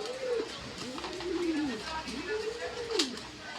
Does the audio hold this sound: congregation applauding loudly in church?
no